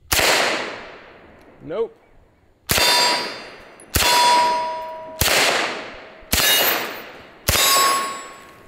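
Calico M-950 pistol firing at targets, five sharp loud shots spaced about a second apart, with a clang of a metal target ringing after several, and a brief word spoken before the shooting.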